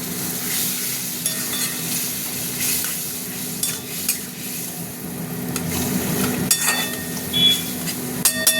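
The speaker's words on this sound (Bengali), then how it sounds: "মশলাটা কষা হতে থাক" Spice paste frying in a pan while being stirred, a steady close sizzle running throughout with occasional scraping knocks of the spoon, growing busier near the end, no voices.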